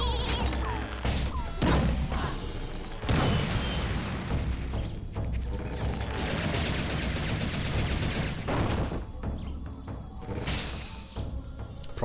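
Shooting in Serious Sam 2 in the Ursul suburbs, with loud bursts of gunfire, crashes and impacts piling up over a dense, chaotic game mix that runs continuously without speech.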